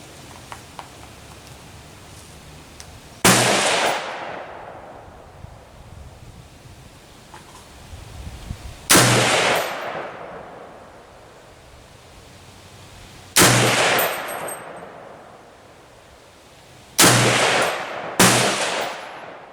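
Five loud rifle shots at an outdoor shooting range, each a sharp close crack with a long fading echo, spaced several seconds apart, the last two close together, with wind in between.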